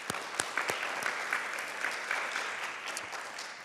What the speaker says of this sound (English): So a round of applause for our finalists,